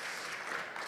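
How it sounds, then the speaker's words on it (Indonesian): Brief, fairly faint applause from a church congregation, a soft continuous patter of clapping lasting under a second. "Kasih tepuk tangan yang meriah buat Tuhan"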